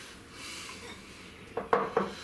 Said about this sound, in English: That's a Suribachi bowl from Amazon